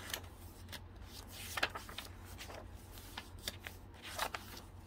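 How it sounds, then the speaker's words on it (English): Paper bag being handled during a crafting session, giving soft, scattered crinkles and rustles in short bursts, close and fairly quiet with no talking. "Paper bag."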